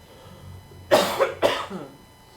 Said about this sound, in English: I do not mean to cough that harshly.